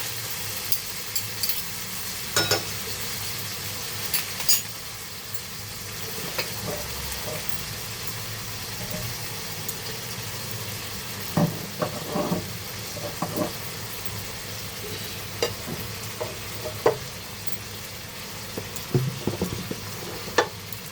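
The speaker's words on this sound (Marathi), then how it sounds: "शेजवान चटणी टाकते त्याच्यात मस्त आता ना आपण असं मिक्स करून घेऊया" Prawn keema with Schezwan chutney being stirred in a pan, a steady low sizzle under repeated scraping and clinking strokes of a spoon scattered through the clip, close and moderately loud, with no talking.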